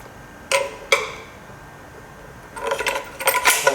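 A metal bolt dropping into the hole in an ATI Nomad break-open gun stock, two sharp metallic clinks, then a rattling cluster of clicks and scrapes as it settles, close and fairly loud, no talking.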